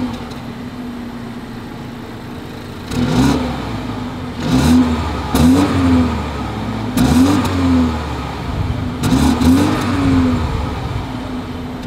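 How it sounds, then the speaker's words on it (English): A 2022 BMW X2 exhaust idles with a steady hum, then is revved about five times in short, loud bursts, each rising sharply and falling back to idle, with no talking. "As always, here is that exhaust clip."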